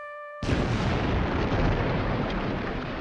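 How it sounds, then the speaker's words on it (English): A sudden, loud explosion tears through the quiet at night as the battleship USS Maine blows up in Havana Harbor, a single massive blast that rolls into a sustained roaring rumble with no voices. "an explosion rocked the front end of the ship"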